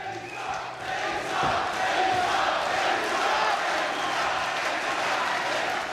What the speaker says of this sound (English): Fight begins and you can hear the crowd cheering Denisa.